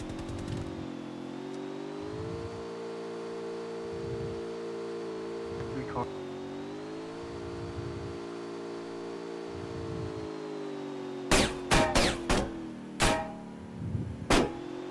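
Two or more cars pass by in turn, engines humming and swelling steadily, followed near the end by several sharp loud impacts or bangs.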